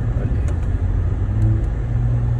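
A Lexus IS 250 engine shifting gears while driving, a steady low rumble of the motor and road noise inside the car, with a slight dip and change in engine tone partway through.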